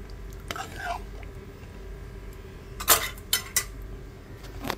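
A few quick metallic clanks of a lid settling onto a pot of cooking chickpeas, close by in a quiet kitchen, after a soft earlier rustle.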